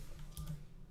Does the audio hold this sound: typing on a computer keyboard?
yes